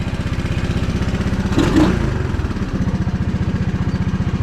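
A 1980 Honda ATC185 three-wheeler's small single-cylinder engine pulled over and running, a steady loud putter with a brief rev swell in the middle before settling back to an even idle.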